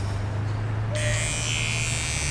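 An electric shaver switches on about a second in and buzzes steadily with a bright, high whine, close and loud, over a low background hum.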